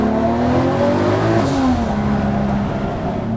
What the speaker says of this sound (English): just second gear, the way it just walks forward and guides you into oversteer.